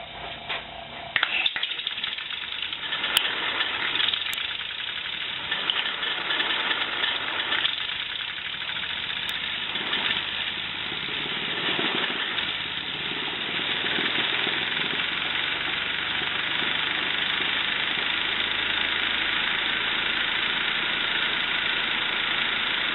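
A homemade air engine turns a wheel with a steady, fast mechanical chugging and rattling that runs continuously for the whole stretch, close and fairly loud, with no talking.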